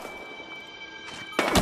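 Gunfire in the video game Battlefield Hardline: after a quiet hum, a softer shot is followed by two loud, sharp reports in quick succession near the end.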